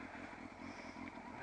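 Motorcycle engine idling with the clutch pulled in during a slow race challenge, a steady low throb that runs continuously at moderate level for the whole short stretch.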